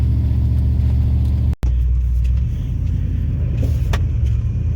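A 2004 truck being moved out of the way, its engine producing a loud, close, steady low rumble that cuts out briefly and then resumes at a slightly lower level.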